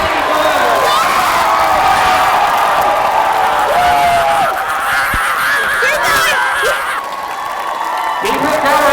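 Convention audience at the Haven panel at MCM London Comic Con, October 2013, screaming and cheering loudly in one sustained, dense roar with shrill whoops throughout.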